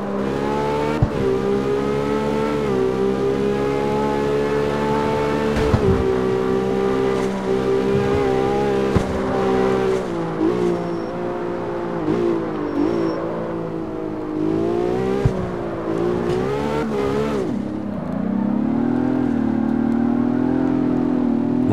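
Ford GT engine in the CarX Street racing game, a loud continuous drone that rises and falls with throttle and gear changes, revving hard near the end, with no voices over it.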